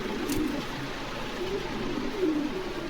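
A pair of pigeons at a pigeon farm coo softly and repeatedly in low, rolling phrases over a steady background hum, with no voices.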